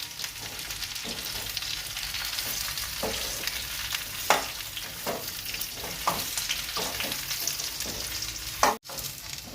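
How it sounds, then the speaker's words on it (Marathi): Chopped dates stir in hot ghee in a home kitchen pan for laddoos, a soft continuous sizzle broken by scraping spoon strokes and a few sharper knocks against the pan, with no talking. "आता आमचं तूप टाकलं आहे आणि त्याच्यामध्ये आता खजूर टाकून घेतली ही खजूर मिक्स करून घेते"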